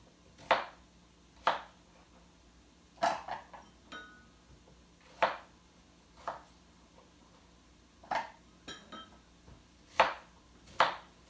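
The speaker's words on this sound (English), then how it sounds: "So we may need to cut this onion up a little bit too." A knife chops an onion on a cutting board with about ten separate crisp thuds at an uneven pace, some with a faint ring. The room is otherwise quiet.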